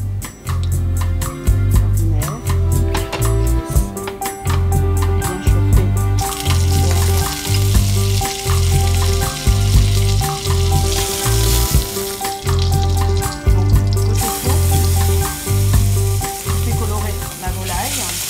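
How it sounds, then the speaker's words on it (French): Chicken pieces, mostly poultry breasts, sear in oil and butter in a sauté pan with a steady close sizzle that swells louder partway through, over a repeating low rhythmic thumping. "Dans mon sautoir, je vais ajouter de l'huile et du beurre pour faire revenir mes morceaux, pour les faire colorer."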